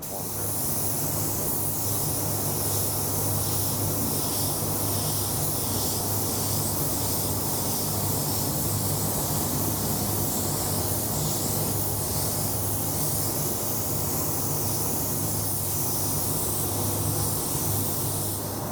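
A spray gun with a 1.4 tip applying black base coat gives a steady, loud, continuous hiss of atomizing paint, unbroken for the whole span.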